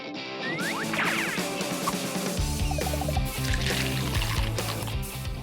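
Water poured into a small pet water park, a steady trickling splash running through most of the stretch over a low background rumble and some clatter.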